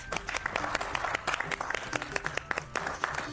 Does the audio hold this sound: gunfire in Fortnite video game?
no